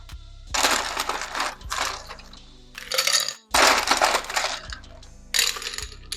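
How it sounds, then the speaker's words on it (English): Ice cubes clatter and clink into a Collins glass in several bursts, loud and close, separated by short pauses. "So first we're going to start off by filling a Collins glass with ice."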